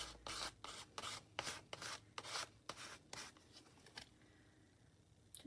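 A used plastic gift card scrapes gesso across a surface in a series of rough, rasping strokes, about ten close passes with short pauses, then a quieter stretch of fainter scraping near the end.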